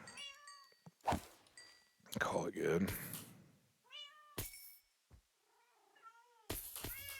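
Cats meowing: several separate meows, some short and some drawn out into wavering calls, spaced across the moment and alternating with someone talking.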